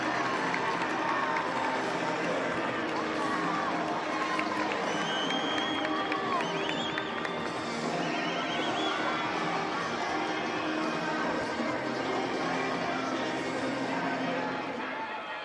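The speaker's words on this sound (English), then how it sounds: "There is a giant crowd." A large stadium crowd roars and cheers steadily after a goal at a Duke versus Notre Dame ACC women's soccer match, a dense sustained wash of voices and shouts with a commentator talking over it.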